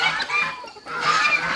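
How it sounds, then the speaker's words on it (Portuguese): Free-roaming farm chickens cluck and chatter close by, with overlapping calls running almost continuously through the short stretch. "Gente, tinha um monte de galinha solta."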